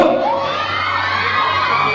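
A crowd shouts and cheers loudly and continuously at a film premiere night, with high excited voices and whoops forming a dense, unbroken wall of noise.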